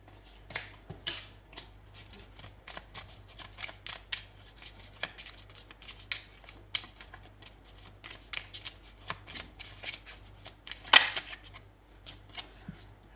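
Tarot cards being shuffled by hand, giving a steady run of quick papery riffles and slaps that continue for many seconds close by, with one sharper snap near the end and no talking.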